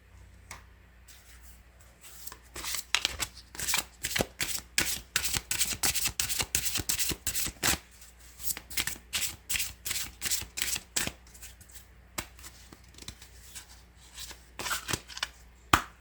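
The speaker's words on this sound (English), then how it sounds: "let's give this a shuffle." Tarot cards from an Archangel Gabriel deck shuffled by hand in rapid bursts of crisp riffling clicks, a dense run in the middle with pauses and scattered single taps near the end, close and fairly loud with no talking.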